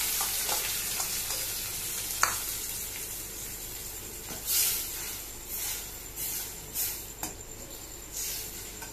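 Amla mixture scraped into a kadai and stirred, giving a soft steady sizzle with intermittent scraping and stirring swells, close by and without any talking.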